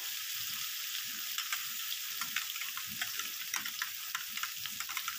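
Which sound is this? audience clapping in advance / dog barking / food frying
food frying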